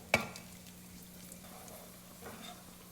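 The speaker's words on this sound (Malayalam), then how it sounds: "ഇനി ഇതിലേക്ക് കുറച്ച് അണ്ടിപ്പരിപ്പും മുന്തിരിയും വറുത്തെടുക്കാം." Cashews and raisins fry in hot oil in a pan, a faint low sizzle with one sharp clink near the start and a few soft stirring scrapes.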